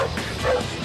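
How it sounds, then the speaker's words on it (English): A search and rescue dog gives a short, yipping bark with a whiny edge, a single brief close vocalization against faint background noise. "they bark or they try and dig and get into where the person is."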